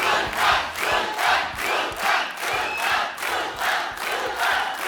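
A studio audience on a comedy talk show greets a guest with rhythmic waves of clapping and cheering, about eight surges in steady beat, loud and close with no speech.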